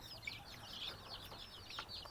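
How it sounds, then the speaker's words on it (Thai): Little chicks chirp in a rural Thai farmyard, a stream of high, quick peeps overlapping continuously at low volume with no talking. "ไก่น้อย"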